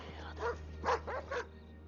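Dogs barking outside in a film scene, three or four muffled barks and yips in quick succession over a low steady hum, slightly distant.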